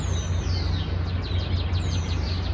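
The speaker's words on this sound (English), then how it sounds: "Thank you for the gift of these spring birds" Spring birds sing in a series of quick, high chirps and descending tweets over a constant low hum, fairly clear and close across the short stretch.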